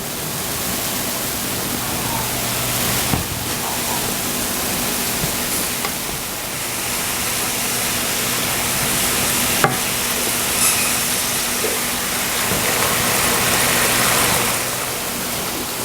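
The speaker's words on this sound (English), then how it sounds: "now I will add my mushrooms to my butter, and I'm going to saute these" Mushrooms sauté in melted butter in a pan for a stuffed meatloaf, giving a steady, close hiss and sizzle with occasional stirring scrapes and clinks.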